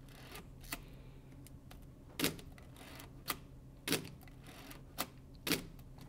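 Pentax ME Super film camera being wound and fired, a series of crisp mechanical clicks and ratchety snaps spaced about a second apart, close and fairly quiet with no talk.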